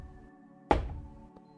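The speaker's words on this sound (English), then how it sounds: "Dull thud." A single heavy thud effect for a dungeon room activating in a Godot game: one sharp, loud hit that rings and decays over about a second, standing alone over a low steady hum.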